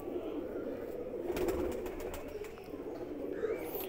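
Pigeons coo steadily in a loft where a breeding pair is kept, a low continuous burbling with faint chirps on top, close and moderately loud with no talk.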